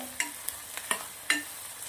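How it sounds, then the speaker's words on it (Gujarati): Onions frying in a pan, stirred in a few quick, light spoon scrapes and taps over a faint sizzle, close and brief. "ડુંગળી આપણી સરસ મજાની સતળાઈ ગઈ છે"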